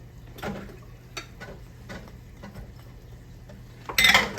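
Cheese being mixed in a small bowl, heard as scattered light taps and scrapes of a utensil against the bowl, ending in a louder clatter, close by with no talking.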